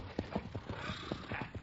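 Horses' hooves clip-clopping as a radio drama sound effect in a Spanish Civil War story, a quick, fairly quiet run of hoofbeats in an irregular trotting rhythm with no voices.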